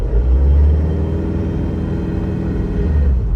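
A 2001 Isuzu Panther LS Turbo automatic runs with the gas pedal pressed, its engine giving a steady, loud, deep rumble close by, alone with no voices.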